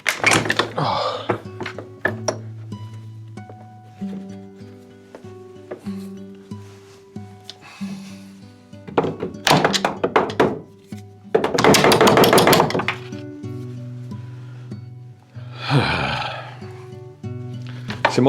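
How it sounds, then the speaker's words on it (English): A hammer strikes a part of a Trek bicycle clamped in a bench vise, producing several irregular hard metallic knocks spread out over time, close by, with someone speaking in between. "This is how you use a hammer,"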